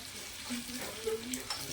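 Grated ginger roasting in oil over a low gas flame for a dal fry tempering gives a soft, faint, continuous sizzle with a few light clicks, brief and close.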